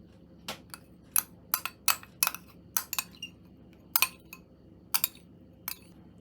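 Light, irregular clinks of a utensil tapping against a bowl while stirring a mayonnaise and mustard dressing, close and quiet, spaced out like slow stirring with no talking.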